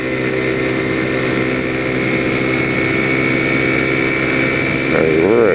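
A vehicle engine with a CVT transmission and slider weights fitted, cruising at about 55 with the throttle eased back: a steady, droning engine hum with no break, swelling and shifting slightly at the end.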